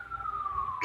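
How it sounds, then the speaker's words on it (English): A single wailing siren tone drifting slowly downward in pitch, steady and moderately loud, like an emergency vehicle passing nearby. "Sirens going off."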